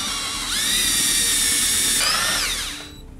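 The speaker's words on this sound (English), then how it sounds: "so I drill a pilot hole first" A power drill boring a pilot hole in scrap wood whines steadily at high pitch for a few seconds, speeding up then winding down, loud and close with no talking.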